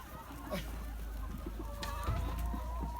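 Farm chickens clucking after being fed soaked wheat, several birds giving short, scattered clucks over a steady low background hum, fairly close.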